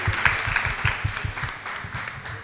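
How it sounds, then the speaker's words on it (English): Youth town hall audience clapping, a smaller crowd whose individual claps are distinct, producing a fairly close, uneven rhythmic patter that tapers slightly toward the end. "Clap on yourself as well."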